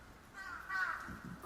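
A man imitates a crow's caw with his voice, giving a short, harsh, nasal call that swells in the middle, close and fairly quiet, with no other talk.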